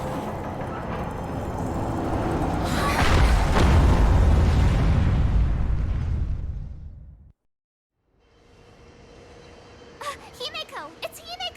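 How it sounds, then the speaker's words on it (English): Himeko's orbital cannon in Honkai Star Rail fires: a rising whoosh swells into a heavy, rumbling explosion lasting several seconds, cuts to brief silence, then quieter game sounds with sharp chirping effects return. "is that Himiko's orbital cannon?"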